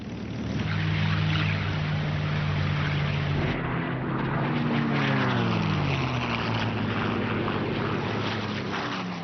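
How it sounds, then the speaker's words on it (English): WWII fighter planes with propeller engines drone steadily through thick, rushing noise, their pitch sliding downward as they pass overhead in the Pacific carrier war; loud, continuous and unaccompanied by speech. "450 fighters were scrambled to intercept the Japanese planes"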